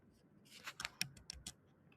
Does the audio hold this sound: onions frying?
no